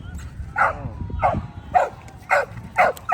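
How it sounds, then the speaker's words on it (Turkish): A dog barks five times in a steady rhythm at Venice Beach, sharp and fairly close, with a little low background noise between the barks. "Bak çıldırdı köpeği."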